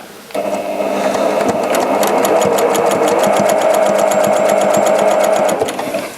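A Janome 780DX professional sewing machine stitches steadily with a fast, even mechanical whir and rapid needle ticking. The sound comes from close by and runs continuously for about six seconds before it slows at the end, with no talking.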